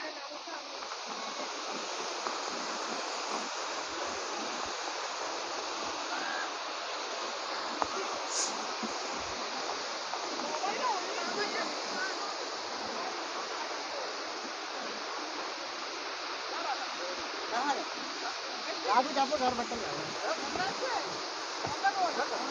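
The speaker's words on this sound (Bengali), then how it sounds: "এই হলো হুড্রু ফলস।" Hundru Falls near Ranchi roars as a dense, steady wash of falling water, broad and continuous for the whole stretch, with faint voices of nearby visitors occasionally under the rush.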